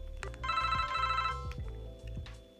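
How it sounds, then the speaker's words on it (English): A ringtone plays from a pink Motorola RAZR phone, a short bright electronic bell-like melody repeating in quick notes at moderate volume, with no talking. "let's listen to some ringtones"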